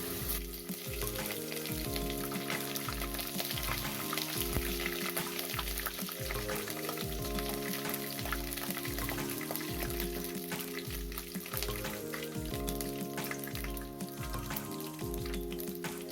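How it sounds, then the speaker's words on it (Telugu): Curry leaves fry in oil for bhel puri, a constant sputtering sizzle beneath a loud, rhythmic music track that plays throughout. "ఇప్పుడు ఇవి ఫ్రై అయిపోయాయి. మనం ఈ కరివేపాకుని ఇందులో వేసేద్దాం."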